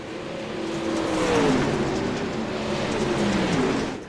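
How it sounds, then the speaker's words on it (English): Race cars roar around a speedway oval in a Sunday night event, a dense, continuous engine drone that swells and fades as the pack passes, with no clear talk. "Joseph Grandy is so quick on the bottom side of the speedway right now."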